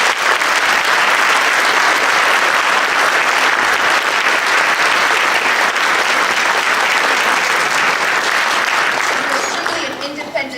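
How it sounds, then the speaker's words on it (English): Loud, sustained applause from a large audience at a city council member's inauguration, dense and steady, fading slightly at the end. "I would allow you to give a round of applause to my former colleague, Peter Vallone"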